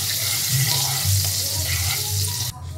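Butter and refined oil sizzling in a hot kadai: a continuous close, bright crackling sizzle with a low bubbling hum beneath, easing briefly near the end, no voices.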